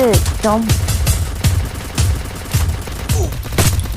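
Gunfire in the battle royale game Free Fire, a series of sharp repeated shots at roughly half-second intervals under game sound effects, with a player commentating throughout.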